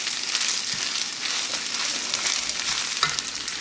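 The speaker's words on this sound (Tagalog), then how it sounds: "Siyempre, haluin." Beef udon noodles with cabbage sizzle steadily in a hot pan as they are stirred, a continuous close frying hiss with faint scraping touches and no voices.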